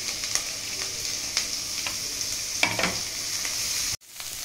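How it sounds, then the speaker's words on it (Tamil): Cabbage and other vegetables sauté in a pan for a veg frankie roll filling, giving a steady, even sizzle with occasional stirring scrapes, then cutting off abruptly near the end. "இதெல்லாம் நல்லா வதங்கட்டும்."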